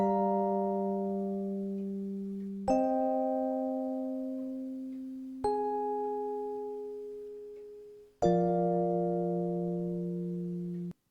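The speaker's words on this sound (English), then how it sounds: "it's a sample of an Ensoniq VFX preset called EL Piano" Ensoniq VFX EL Piano preset, a bell-like electric piano tone, plays four long sustained notes one after another, each struck cleanly and slowly fading, alone and close.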